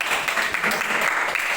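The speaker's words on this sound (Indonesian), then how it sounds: "tepuk tangan lagi" A room of junior high school students applauds together, a dense, continuous burst of clapping that stays loud and even throughout, with no break in the sound.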